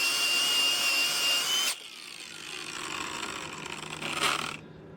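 A cordless brushless Ryobi angle grinder runs loud and steady with a high whine, drops off abruptly partway through, then grinds again more roughly before cutting out near the end.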